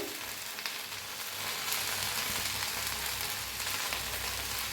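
Masala okra with garlic sizzling and frying in a pan, a steady soft crackle with light stirring, fairly faint and close, with no voices.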